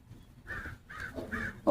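Crows cawing outdoors on an early morning walk, three distinct harsh caws in a steady rhythm at moderate distance, with a louder, closer call starting right at the end.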